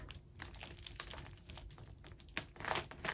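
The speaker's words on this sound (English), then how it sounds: "I'll use some tape." Adhesive tape crackles and rips as it is pulled from the roll and pressed onto a folded package being readied for Operation Christmas Child, a close series of sharp crinkling bursts that grow louder near the end, with no talking.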